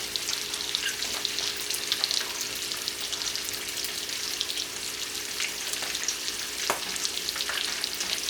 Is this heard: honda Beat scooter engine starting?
no